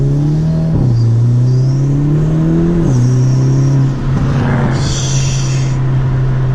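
A Hyundai Elantra N fitted with a Forge turbo inlet and intake revs loudly and close up, its engine note climbing and dropping in several steady blips, with a brief whooshing intake or blow-off hiss near the end.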